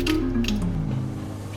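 Mayonnaise, ketchup and balsamic cream squeezed from bottles into a bowl to make a sauce: a short, close, soft squelching squirt with a wet, sputtering drip at the start.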